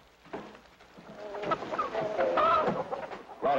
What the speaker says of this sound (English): what do you think you're doing with that chicken?